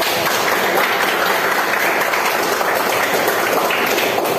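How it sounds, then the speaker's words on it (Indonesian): Loud, steady applause from a classroom of students during a short-story writing lesson, a dense continuous patter of clapping hands lasting throughout. "Tepuk tangan dong untuk"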